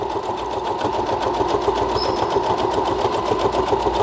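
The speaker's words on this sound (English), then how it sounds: "I'm going to sew a little faster because I'm feeling bold." A sewing machine stitches a storage pouch made from magazine pages, running steadily and fairly fast with an even, rapid needle rhythm throughout, close and fairly loud, with no talking.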